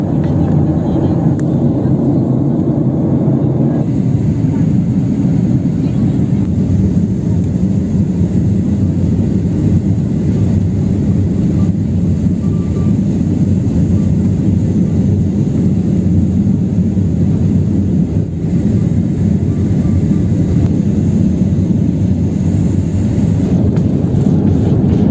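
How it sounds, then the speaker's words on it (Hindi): A SpiceJet passenger jet on its first flight from Delhi to Darbhanga touching down on the airport runway, heard from inside as a steady loud roar of engines and rushing air throughout. "एयरपोर्ट के रनवे पर लैंड कर गई है सक्सेसफुली"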